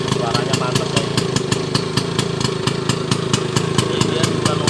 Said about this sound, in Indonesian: Ini knalpot Arban Jerman, SIP Arban, suaranya mantap kayak gini.